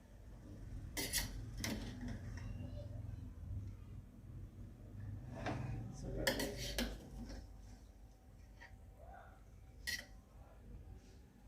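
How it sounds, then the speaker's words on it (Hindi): Cooked pea pulao rice is gently stirred in a pot, with a few sharp clinks and scrapes of a spoon against metal in irregular bursts, close and fairly quiet. "बिल्कुल हल्के हाथ से इसे चावलों को हिला लें"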